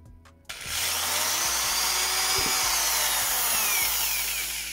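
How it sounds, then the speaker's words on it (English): A power drill runs at full speed boring a hole into a 3D-printed kalimba, starting abruptly and holding a loud, steady whirring grind with a faint rising tone throughout. "I start with the drill resting in the center of where I want to drill"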